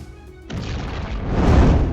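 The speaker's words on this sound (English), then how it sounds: "the Russian stronghold within the house and the basement was destroyed in the massive explosion that followed" A massive explosion destroys a house and a basement stronghold in wartime Toretsk, Ukraine: a sudden loud boom followed by a sustained heavy roar and rumble that swells toward the end.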